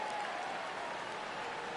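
A stadium crowd in a PS4 baseball video game cheers and claps steadily as the count goes full, a broad, even roar of applause that neither rises nor fades.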